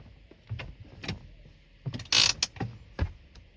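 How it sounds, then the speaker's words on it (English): Parking brake being set on a 2014–2020 Acura, a close mechanical ratcheting of clicks and clunks spread over a few seconds, with one louder grinding pull in the middle. "Put the e-brake on."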